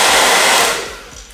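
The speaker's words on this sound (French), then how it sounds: "on est parti pour voir si un sèche-cheveux peut faire un aspirateur" Hair dryer blowing loud and steady at close range, its broad rushing roar fading away over the last half second, no voices.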